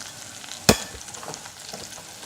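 Whole spices, coriander and fennel seeds, sizzling in oil in a pan on a low gas flame, a soft steady crackle with one sharp clink of a spoon against the pan, then quieter stirring scrapes.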